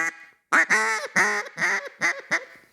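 An ICU2 double reed duck call imitates a hen mallard with a whiny, nasal series of about five loud quacks, each a short, descending squawk with brief gaps, after a faint opening note.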